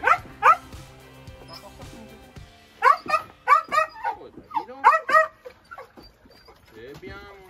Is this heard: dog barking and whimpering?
yes